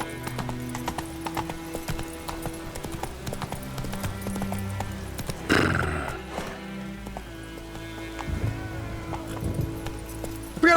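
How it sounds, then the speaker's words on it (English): Rhythmic clip-clop of a horse's hooves at a quick pace in The Witcher 3, with a horse whinny partway through, over a busy game soundscape. "I forgot how wonky this horse was,"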